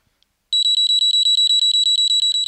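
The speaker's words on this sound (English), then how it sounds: "There's an inbuilt alarm in the device, so once it detects a temperature over 54 degrees Celsius, it sounds the alarm and alerts you to the problem." Built-in heat alarm of a Firemole fire detection device beeps in a rapid, even pulse of shrill electronic tones, loud and close, starting abruptly after a brief quiet.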